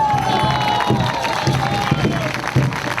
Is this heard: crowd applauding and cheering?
yes